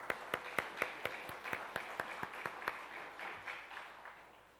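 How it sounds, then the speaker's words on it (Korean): A church congregation at a Sunday service claps for its Sunday school students, a fairly faint, even run of single claps at a steady rhythm that thins toward the end. "다시 한번 우리 주일학생들을 위해서 우리 박수로 격려하십시다"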